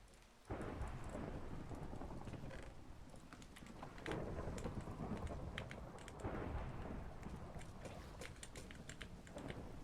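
Thunderstorm in the Skyblock video game, with a steady wash of rain and loud rumbling thunder swelling at intervals, plus faint clicking over the top and no talk.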